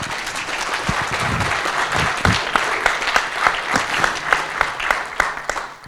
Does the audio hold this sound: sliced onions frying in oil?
no